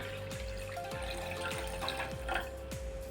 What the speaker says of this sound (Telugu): ఇప్పుడు ఇంకా కొద్దిగా వాటర్ పోసుకుందాము